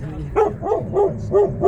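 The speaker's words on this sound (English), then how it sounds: "Sorry about the dog." Dog barking in a home, four or five sharp, evenly spaced barks in quick succession, close and loud, with no talking.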